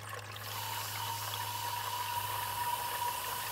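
Water trickles through a bottle watering system inside a Dollar Tree stackable planter, a steady, close, continuous flow with a faint hum underneath and no talking.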